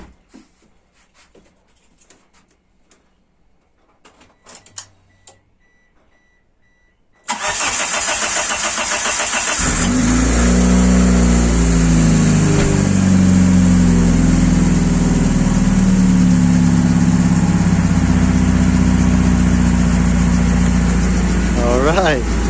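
A Mitsubishi Eclipse 2G, started for the first time in over two years, cranks and catches after a quiet stretch, then runs on in a loud, steady idle with a rough, rumbling drone close by.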